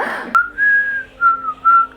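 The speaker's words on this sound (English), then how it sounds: "they tell me not to whistle while I'm in the room" A person whistles indoors, loud and close: a sharp click, then a sustained tone and two short follow-up notes, alone with no talk.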